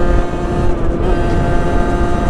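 A Derbi moped engine screams steadily at full throttle and top speed, a loud, continuous high-revving drone with no letup, heard up close without talk.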